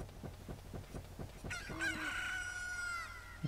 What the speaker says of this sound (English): The chicken suddenly starts to crow again.